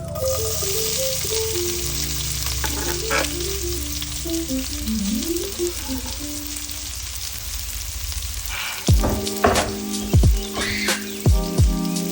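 Onions frying in a pan for a quick Maggi noodle dish, a steady sizzle under soft background music, with a few sharp clinks of a utensil stirring near the end.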